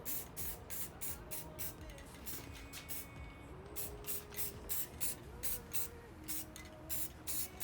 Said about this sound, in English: So I'm just gonna spray these outside.